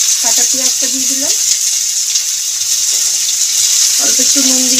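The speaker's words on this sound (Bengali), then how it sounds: "পেঁয়াজটা ভাজতে শুরু হয়েছে, হালকা ব্রাউন হয়ে গেছে" Chopped onions frying in hot oil with whole cumin seeds make a constant close sizzle, while a person speaks briefly over it at the start and again near the end.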